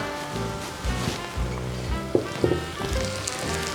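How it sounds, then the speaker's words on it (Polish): Sliced onion hits hot fat in a pan, giving a soft crackling sizzle with a few sharper pops and clatters partway through, moderately quiet and without speech. "Na rozgrzany tłuszcz Dodajemy cebulkę pokrojoną w piórka."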